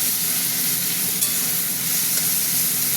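Thinly sliced onions fry in mustard oil for a chicken curry, giving a steady, dense sizzle with faint stirring scrapes, close and continuous throughout with no voices.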